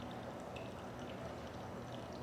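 Water poured during a Japanese tea ceremony, a soft continuous trickling pour heard close and quiet with no talk.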